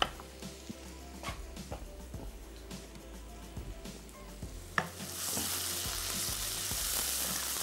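Chopped garlic and a 1 to 1.5 inch piece of ginger fry in a pan for fried prawns, with a steady sizzle punctuated by sharp utensil clicks and stirring scrapes, then swelling into a louder, denser hiss near the end.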